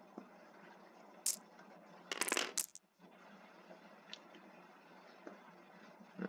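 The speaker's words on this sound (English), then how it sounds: "Alright, so I can roll these dice." Dice rattling and clattering in a short burst, with a brief earlier click and a few faint taps afterward, close and fairly quiet, during a tabletop wargame session.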